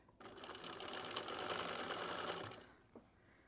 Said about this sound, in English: I can just do one line of stitching